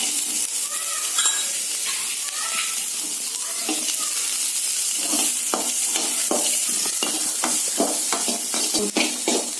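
Chopped onion and green chili are sautéed in a pan. A bright, hissing sizzle runs throughout, with frequent stirring scrapes and clinks growing busier toward the end, and no talk.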